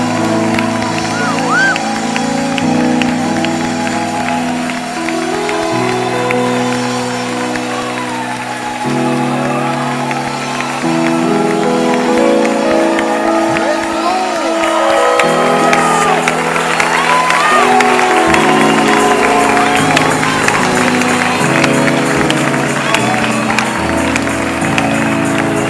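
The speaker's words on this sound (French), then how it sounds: "c'est de bénir Dieu par des acclamations" A church congregation on its feet acclaims God together, a dense wash of cheering, whoops and applause with singing or chanting voices running through it at steady loudness for the whole stretch.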